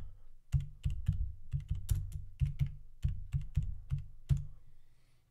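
Someone types on a computer keyboard during a sports trading card break, and about twenty close, crisp keystrokes come in quick uneven bursts with short pauses between them.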